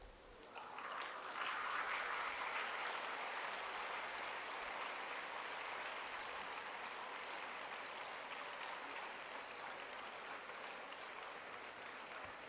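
An audience claps together at a motivational talk, a dense, even wash of applause that starts abruptly and keeps up at steady strength to the end.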